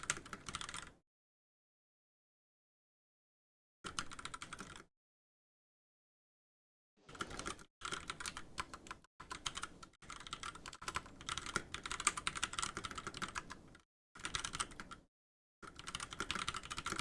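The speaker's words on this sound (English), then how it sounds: "Just typing a bit here." Computer keyboard typing in bursts of rapid key clicks broken by silent pauses, close and clear with no talking.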